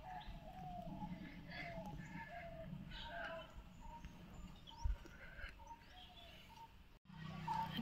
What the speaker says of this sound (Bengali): আর চুপ করে থাকলে এত রকম পাখির আওয়াজ।